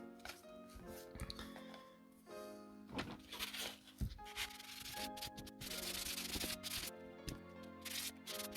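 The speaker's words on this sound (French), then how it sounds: "il reste des petites imprécisions à refaire au ponçage" A restored gamebook is sanded by hand for finishing, with close, quiet rubbing strokes in an uneven rhythm punctuated by a few soft knocks and handling sounds.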